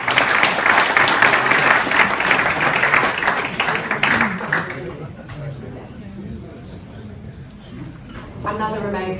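Audience applause at a European digital infrastructure industry conference after a panel, loud dense clapping for about four seconds, then thinning out into scattered claps and murmur, with a voice starting to talk near the end.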